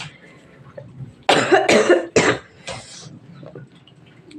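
A few sharp, loud coughs in quick succession close to the microphone, then quieter throat noises trailing off.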